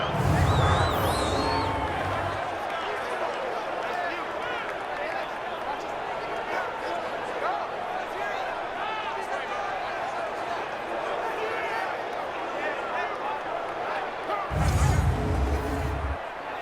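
Stadium crowd cheering and roaring at a Madden NFL football game, a steady broad wash of noise before a big third down that swells louder at the start and again near the end.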